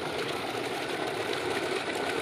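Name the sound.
engine running in village fields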